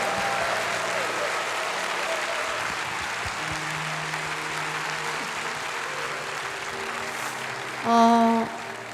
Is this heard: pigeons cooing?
no